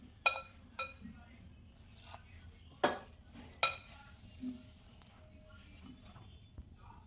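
Flour dough for paratha is mixed by hand with lukewarm water, making a few sharp slaps and soft knocks spaced a second or so apart over a quiet kitchen background, with a voice talking at times.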